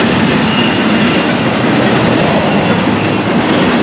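A freight train rolls past close by in a loud, steady roar, with wheels rattling over the rails the whole time and no voices.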